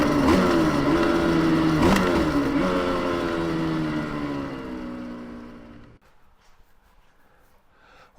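A rebuilt Yamaha TZR 250 3XV two-stroke motorcycle is ridden on a shakedown run. Its buzzing engine note rises and falls under the throttle, then fades and cuts away to near silence, with no talk.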